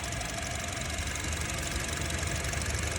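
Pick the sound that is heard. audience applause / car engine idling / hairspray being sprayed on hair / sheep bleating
car engine idling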